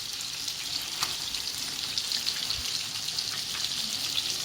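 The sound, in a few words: meatballs added to sizzling sauce in pan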